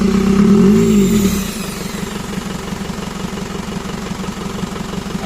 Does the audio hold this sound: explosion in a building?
no